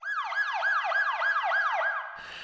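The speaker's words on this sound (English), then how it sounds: "A nice siren of some sort." A loud wailing siren sweeps up and down in rapid repeated cycles, then cuts off abruptly into faint background noise.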